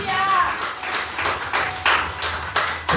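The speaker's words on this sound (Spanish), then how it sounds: "se aplaude a Cristo Jesús" Congregation clapping for Christ Jesus during a Spanish-language church service, a dense burst of handclaps with a few sharper strikes standing out, a faint voice briefly audible at the start.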